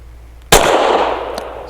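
A single loud shot from a custom Sig P320 pistol firing Federal Syntech 150 grain ammunition cracks sharply on an outdoor range, followed by a decaying echo and a faint second report.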